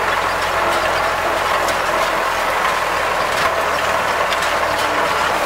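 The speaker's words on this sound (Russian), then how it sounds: "очередной раз трактор начинает работать под нагрузкой" A Claas 46 hay baler and its tractor work under load in a hayfield, producing a continuous loud mechanical churn with steady ratcheting clatter and an engine drone underneath.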